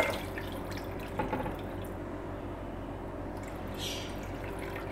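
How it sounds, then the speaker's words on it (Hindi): Water poured into a cooking pot for chicken corn soup, a quiet steady trickling and dripping that runs continuously, fairly faint and close, with no talking. "ये इसमें पानी डाल दिया हमने"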